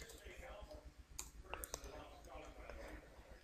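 Computer mouse clicks and a few light keyboard keystrokes, sharp isolated taps scattered through a quiet room recording, with a voice speaking over them.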